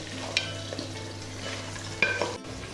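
Kerala-style Kuttanadan duck roast simmers and reduces in an open pan, with a soft continuous sizzle broken by a few sharp scraping stirs of a spoon against the pan, no talking.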